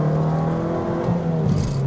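A manual-transmission car accelerates hard in second gear, its engine droning steadily with rising, close, continuous revving heard from inside the cabin.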